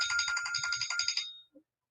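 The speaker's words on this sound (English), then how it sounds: "that was my alarm" A phone alarm tone plays a bright, rapid melodic ringtone loudly and up close, then cuts off abruptly after about a second and a half, with a soft click just after.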